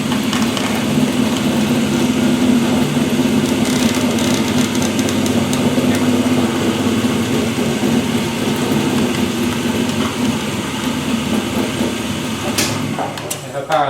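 The rotator motor of a Thunderbolt siren hums steadily and continuously at close range, with faint rattling on top and a brief louder clatter near the end.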